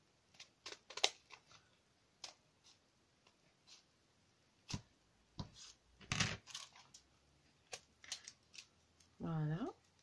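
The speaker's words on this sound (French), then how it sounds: "c'est de couper la cartonnette" Scissors cut cardboard in a quiet room with a series of sharp, close snips and clicks at irregular intervals, a brief rustle, and a short voice near the end.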